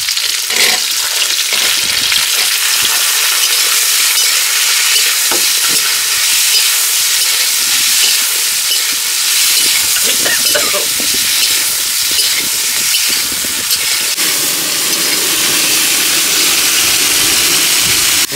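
Cubed onions and tomatoes with green chillies fry in a hot pan for chicken do pyaza, keeping up a loud continuous sizzle and hiss broken by occasional scraping stirs.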